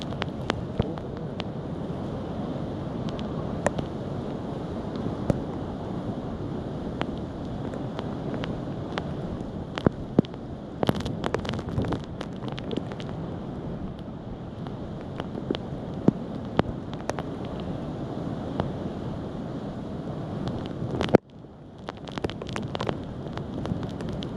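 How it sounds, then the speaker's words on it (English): Strong storm wind gusts at the edge of a parking garage, roaring and buffeting a nearby microphone steadily, with scattered sharp crackles and knocks from the buffeting. "just come up to the edge of the building and show you how bad the wind is"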